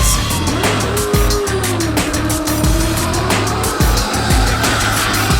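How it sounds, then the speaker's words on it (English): A Dodge Challenger drift car at a Red Bull Drift Shifters event roars at high revs while its tires squeal in long sliding screeches, loud and close throughout, with no commentary over it. "He's driving the Dodge Challenger, aka fillet steak on wheels."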